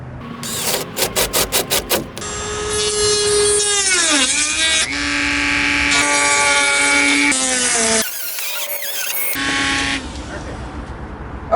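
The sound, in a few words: drill bit cutting a hole in plywood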